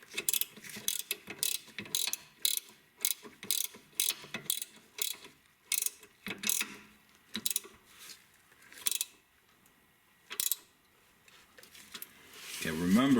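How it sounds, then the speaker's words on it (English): A gear wrench ratcheting on the rear brake bolts of a Toyota Avalon, quick clicking bursts in steady strokes with short pauses between, close and fairly quiet, ending in a brief louder sweep. "I'm going to use my gear wrench"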